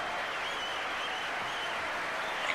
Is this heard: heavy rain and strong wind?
no